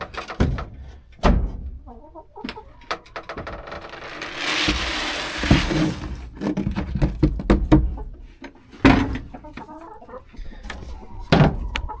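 Scattered clucks and low rooster sounds come and go alongside clattering knocks and thumps, with a burst of gusty wind noise in the middle, outdoors on a windy farm.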